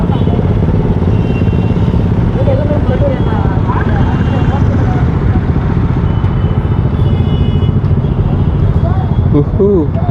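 A group of motorcycles rumbles past on a Tiranga Independence Day ride, a dense, steady engine drone close by, mixed with voices talking over it.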